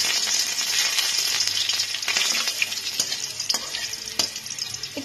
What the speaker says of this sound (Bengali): এর মধ্যে আমি থেতে নেওয়া রসুনগুলোকে দিয়ে দিচ্ছি।